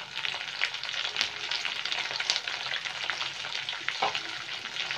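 Chopped green chili, onion and capsicum sizzle and fry in a hot pan for chilli chicken and egg fried rice, a close, steady crackling hiss with occasional stirring clatter and no talk.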